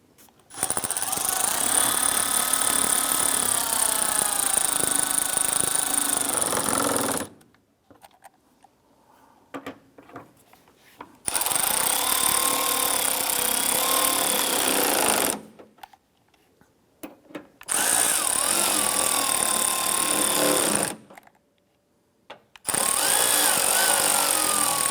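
A power tool on a 1994-2004 Chevrolet S-10 snugs down the water pump bolts in four loud, rapid ratcheting bursts of several seconds each, separated by near-silent pauses, with no talking.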